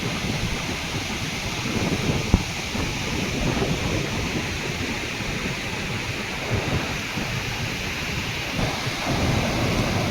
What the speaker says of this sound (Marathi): इकडे पुण्यामध्ये जोरदार पाऊस कोसळतो आहे